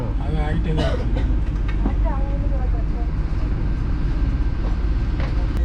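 A Vande Bharat express train rumbles steadily at Villupuram station with its doors closed, with low mechanical noise, a few squeals and clanks, and people talking in the background.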